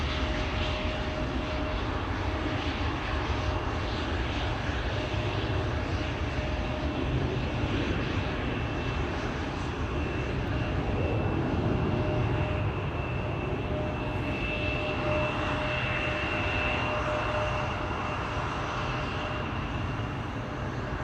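Steady, fairly faint jet engine rumble and whine from a KLM Embraer 175 airliner at Schiphol Airport, a continuous drone heard from a distance with a faint tonal hum over it and no talk.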